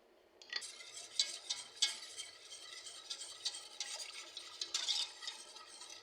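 Macaroni béchamel sauce being stirred in a pot, a steady scraping and swishing of the spoon with soft clinks against the metal, continuous and close, with no one talking.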